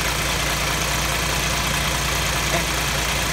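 Toyota Land Cruiser 80 with a swapped-in Toyota Prado turbo diesel engine, automatic, idling nearby in a steady, even rumble with faint knocking and no voices.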